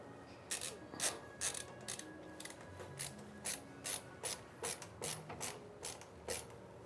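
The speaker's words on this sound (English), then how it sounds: "you just know you have good tooling with just how easy the screws go in" Screws driven into a Hyte X50 PC case with a screwdriver: a regular series of sharp ratcheting clicks, about two per second, close and clear over a quiet room hum, with no speech.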